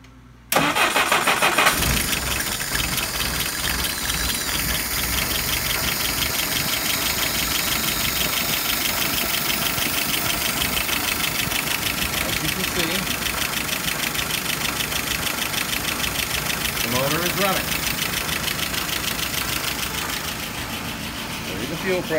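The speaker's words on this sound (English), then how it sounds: "A little bit of gas. And I'm going to close the choke. And I'm going to start it." A carbureted car engine started with the choke catches after a brief crank and settles into a loud, steady, slightly lumpy idle, close up, running continuously to the end.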